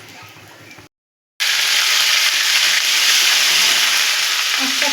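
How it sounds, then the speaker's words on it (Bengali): Ginger-chili paste and cumin powder hit hot oil with a loud, steady broadband sizzle that follows a brief gap of silence and keeps going evenly to the end. "এই তেলের মধ্যে আমি আদা লঙ্কা বাটাটা আর জিরে গুঁড়োটা দিয়ে দেব।"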